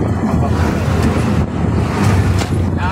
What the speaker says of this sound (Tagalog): Ito ang mahirap sa tricycle pag kargado, no? Kasi paahon dito